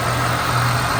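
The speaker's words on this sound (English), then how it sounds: "rev the car while I put the phone up to the rear exhaust" A 1989 Ford Thunderbird Super Coupe idles at the rear exhaust, a close, steady low engine rumble with no voices.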